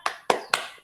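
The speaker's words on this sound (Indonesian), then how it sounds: "Kita ulang sekali lagi, tepuk semangatnya. Tepuk semangat." A classroom "tepuk semangat" clapping chant gives three sharp, evenly spaced claps, crisp and close.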